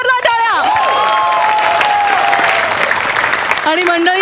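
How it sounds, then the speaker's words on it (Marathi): Loud, dense applause from a studio audience at a Marathi comedy show, spreading across the whole stretch, with tonal music sweeps and a held tone riding over the clapping. "जोरदार टाळ्या"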